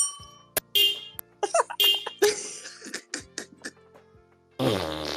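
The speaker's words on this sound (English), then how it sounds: "Stop farting." Comic fart sounds in a Penacony video game: a string of short, loud, squeaky blasts of varying length in an uneven rhythm, ending with a longer buzzing one, heard over game effects.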